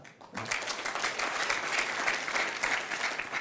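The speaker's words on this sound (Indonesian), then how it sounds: "tepuk tangan" A crowd claps steadily in a dense burst of applause that starts abruptly and continues evenly for a few seconds.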